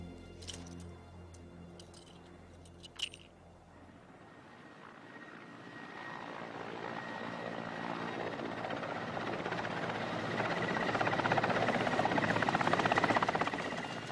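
Aircraft engine drone builds steadily from quiet to a loud, broad roar, like a helicopter approaching and passing overhead, with a brief sharp click early on.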